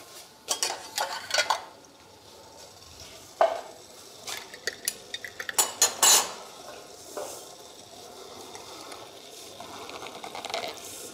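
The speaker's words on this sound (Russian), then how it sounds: "Закрою крышкой." Jar of carrots being closed with a lid before sterilizing, a run of close glassy clinks and metallic taps followed by quieter handling rattles, with no talk.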